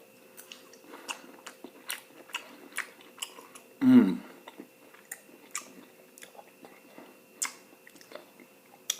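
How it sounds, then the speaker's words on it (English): Chewing and biting into sliced ham with pineapple and a brown sugar glaze, close-up soft wet mouth sounds and small clicks, with one brief louder vocal sound in the middle. "I'm cutting into the ham now with a little pineapple. She used a brown sugar glaze,"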